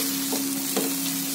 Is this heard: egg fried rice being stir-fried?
yes